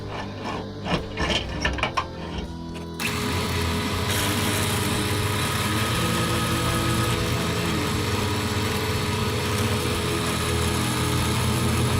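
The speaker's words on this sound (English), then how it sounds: "Let me drill a few pilot holes." A power drill bores pilot holes in a workshop while making a neck knife, a few brief whirring bursts at first, then a steady, loud grinding drone that runs without pause to the end.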